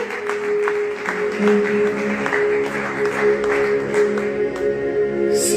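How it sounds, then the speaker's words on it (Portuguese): A church congregation claps for the Lord in a sermon, scattered rhythmic clapping over a sustained keyboard tone with a murmur of voices, moderately loud and ongoing. "Se você pode aplaudir o Senhor, os céus te agradecem"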